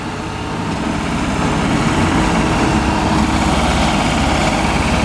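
A skid steer's engine runs at a busy farm auction, a loud, steady mechanical drone that stays even throughout with no talk.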